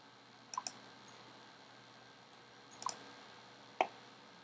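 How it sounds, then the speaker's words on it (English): A computer mouse clicks a few times, with a quick double click near the start, another pair midway and a single sharp click near the end, all close and crisp over quiet room tone with no speech. "Right click or control click on it and select import bank."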